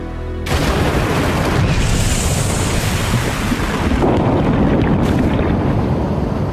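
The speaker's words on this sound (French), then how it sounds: "Le dynamiteur amorce ses explosifs et tout le monde dans les parages se bouche les oreilles, ferme les yeux et prend appui avant l'explosion" Dynamite blasting rock inside a confined hydroelectric tunnel, heard as a sustained loud, broadband roar and rumble that fills the space after a sudden onset, with no voices present.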